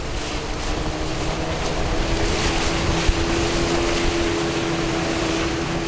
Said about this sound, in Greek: Ο οδηγός του ταχύπλοου, ο Θεός να το κάνει τέτοιο, το περνούσε με μεγάλη επιδεξιότητα και ταχύτητα ανάμεσα από τα εμπόδια και τα στενά.